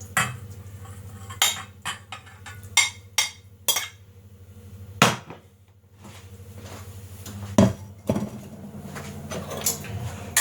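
A big spoon mixes pasta in a large bowl, giving sharp, irregular clinks and knocks of utensil on dish, separated by short quiet pauses, fairly close and with no voices.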